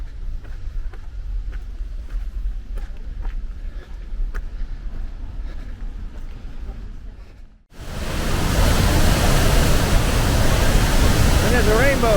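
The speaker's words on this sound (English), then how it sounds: "this is one of the viewpoints of Athabasca Falls" Athabasca Falls, a powerful river waterfall, bursts into a loud, continuous roar partway through. Before that there is quieter outdoor ambience with scattered clicks.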